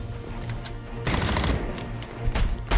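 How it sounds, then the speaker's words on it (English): Rapid automatic gunfire from the video game Batman Arkham Origins, a dense, loud burst of shots lasting over a second amid a busy game soundtrack, with quieter shots around it. "Firing on target!"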